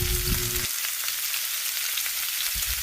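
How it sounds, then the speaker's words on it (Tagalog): Lumpiang Shanghai spring rolls frying in hot oil, a loud, steady broadband sizzle that holds for the whole stretch with no talk over it. "Ito na, magluto na tayo ng lumpiang Shanghai."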